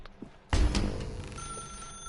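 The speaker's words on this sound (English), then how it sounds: "Now pick up the phone." In The Stanley Parable video game, a telephone ring starts abruptly with a sharp hit of sound, then a sustained ringing tone carries on alone at moderate volume.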